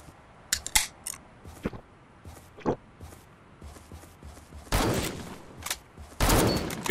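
Scattered single gunshots and short bursts pop in a Surviv.io 50 vs 50 match, sharp cracks spaced irregularly, then two heavier louder volleys toward the end.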